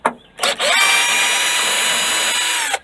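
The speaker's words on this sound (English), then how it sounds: "Take these bolts off." A power drill removes bolts while a fuel cutoff switch is accessed on a Ford Aspire, giving two short bursts and then a loud, steady whine held for about two seconds close by.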